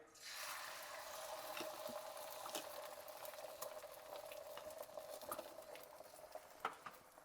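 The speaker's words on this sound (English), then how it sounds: "Okay, so I'm gonna drop in that egg." An egg dropped into hot oil in a pan for chicken fried rice: a sudden loud sizzle that settles into steady, crackling frying with scattered pops, close and continuous, no talking.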